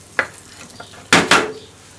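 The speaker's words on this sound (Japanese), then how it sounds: "バターを入れて" Two bursts of sizzling as butter hits a hot pan for making croutons, preceded by a few quiet clinks; loud, close, and fading quickly.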